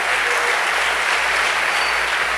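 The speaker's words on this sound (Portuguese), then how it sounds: "Dê uma salva de palmas para Jesus." A church congregation claps together in sustained, dense applause, loud and continuous throughout with no pauses.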